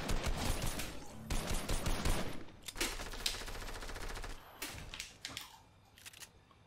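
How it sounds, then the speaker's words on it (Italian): Rapid bursts of gunfire inside a house in a Fortnite match, with sharp, crackling automatic volleys loud at first, then more scattered, lighter shots trailing off. "Eccola un altro che spara qualcuno in casa."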